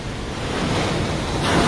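Heavy ocean waves surge against a reinforced concrete seawall in a loud, dense roar of crashing water and spray with wind noise, swelling slightly at the end of the brief burst.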